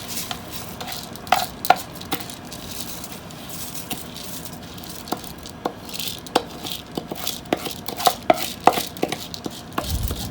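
A spoon stirs washed white rice with vegetables and steak in a pot over medium heat, making irregular close scrapes and clinks against the pot over a faint cooking hiss, with no voices.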